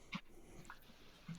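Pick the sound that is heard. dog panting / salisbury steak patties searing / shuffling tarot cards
dog panting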